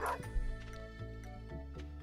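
A dog barking in the farming video game Stardew Valley, a few short yips repeating in a quick rhythm over steady game music.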